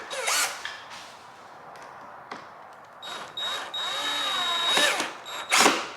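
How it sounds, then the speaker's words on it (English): A power drill drives self-tapping screws into a carbon fiber decklid bracket, with several whirring bursts that rise and fall in pitch, separated by short pauses, close and loud. "Let's see if the self-tap screws work."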